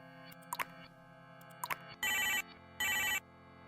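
A telephone rings with two long electronic ringing bursts that follow a couple of brief clicks and beeps. The sound is clear and fairly close, with no one talking.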